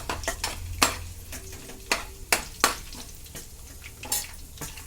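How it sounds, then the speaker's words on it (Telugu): Garlic and urad dal fry in oil in a pan until brown, heard as a soft sizzle. Frequent sharp taps and scrapes of a spoon against the metal fall in an irregular rhythm, and no voice is heard. "ముందు ఎల్లుల్లిపాయలు వేపుకోవాలండి. తర్వాత మినపప్పు వేసుకోవాలి. మినపప్పు వేసుకోవాలి. బాగా బ్రౌన్ రంగు వచ్చేదాకా వేపుకోవాలండి."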